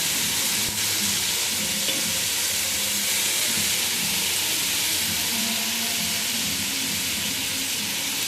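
Mint and coriander leaves sauté in a hot pan for biryani, giving a loud, continuous, even sizzle and hiss that runs without pause, with faint stirring scrapes close by.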